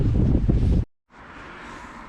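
Loud wind buffeting a microphone while bicycle touring, a broad rumbling roar that cuts out briefly, then returns as a steadier, lighter gusty hiss.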